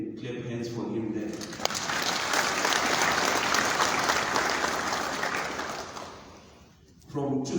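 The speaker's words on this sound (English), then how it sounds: "I think we can clap hands for him there." Mourners at a church memorial service in Kempton Park break into loud, sustained clapping that swells for several seconds and then fades, with a speaking voice heard just before it starts and again as it dies down.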